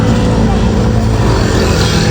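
A motorized tricycle passes close by on the road, a loud, continuous engine rumble that holds steady throughout, with people talking over it.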